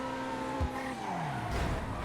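A Corvette C8 in a driving video game brakes hard, its tires squealing in long gliding tones that slide downward over engine noise, followed by a second burst of skidding.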